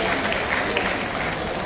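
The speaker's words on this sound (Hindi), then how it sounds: "एक बार जोरदार ताली चाहूंगा मैं आप लोगों से।" Steady applause from an audience at a welcome ceremony, a dense continuous wash of clapping that holds at an even level throughout.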